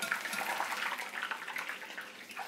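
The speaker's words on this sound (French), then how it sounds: "Tu les plonges donc dans l'huile" Carrot chips dropped into hot oil give a steady, dense sizzle and crackle throughout, fairly loud and unbroken, with no voices over it.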